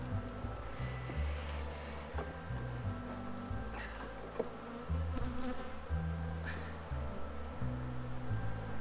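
Honey bees drone steadily around an open hive being smoked, a dense low buzzing that holds throughout at close range with no voices.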